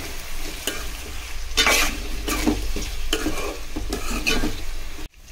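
Cumin, turmeric, ginger garlic paste and potatoes fry in oil as a spatula scrapes and stirs in repeated strokes over a continuous sizzle, ending abruptly.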